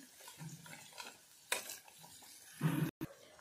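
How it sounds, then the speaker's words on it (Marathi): Ground masala paste fries in oil for urad dal amti, with a spoon stirring and scraping the pan over a soft sizzle and one louder clatter near the end. "हे तेल सुटेपर्यंत हे वाटण आपल्याला इथे असं फ्राय करून घ्यायचं आहे."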